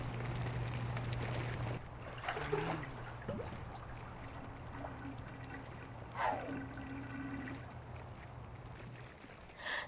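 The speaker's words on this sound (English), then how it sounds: "Mortimer soaks his old bones in the rooftop hot tub." Rooftop hot tub in the life-simulation game The Sims 2, a quiet, continuous burble of bubbling and trickling water with a low hum and a few soft splashes, faint and without any voices.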